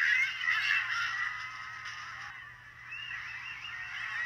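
Bird squawks and chirpy cartoon effects from the Angry Birds game playing on an iPod Touch 2G, a steady honking, goose-like mid-range sound with a faint low hum beneath, no voices.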